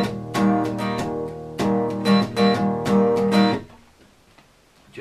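An acoustic guitar is strummed in a pattern of sharp, repeated chord hits in quick groups, some short and damped, others ringing brighter, close and clear before the sound fades to quiet near the end.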